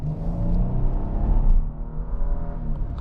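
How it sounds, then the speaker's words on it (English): A deep, throaty twin-turbo V6 engine in a 2025 Nissan Armada PRO-4X SUV rumbles and rises as it accelerates, close by and steady, with no talking. "Twin turbo V6 acceleration is really impressive"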